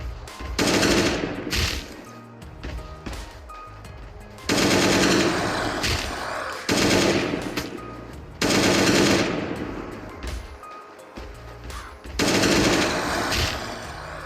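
Automatic gunfire from a weapon in the Last Day on Earth video game, firing in several long bursts separated by short pauses until the magazine runs dry; loud and close, with no talking.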